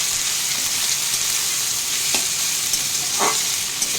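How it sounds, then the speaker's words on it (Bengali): Sliced potatoes and onions frying together in a pan for home-style egg chowmein, a steady close sizzle with a couple of soft stirring clinks, no voices. "একসাথে পেঁয়াজ আর আলু ভাজতে থাকবে।"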